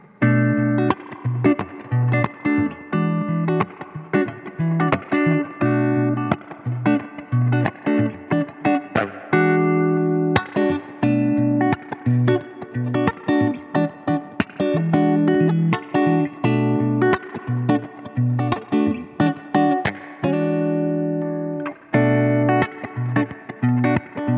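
Electric guitar fitted with Seymour Duncan YJM Fury pickups, played through amp simulation with a little delay and reverb, runs continuously as fast, articulate picked phrases and chords, loud and close with no voices.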